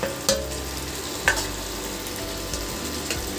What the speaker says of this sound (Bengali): চিংড়ি মাছগুলো দিয়েও আমি মশলার সাথে ভালো করে মিশিয়ে নেব